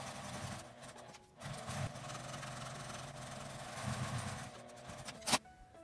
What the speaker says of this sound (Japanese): 端ミシンをかけます。